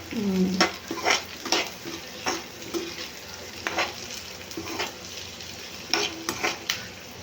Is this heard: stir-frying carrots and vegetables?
yes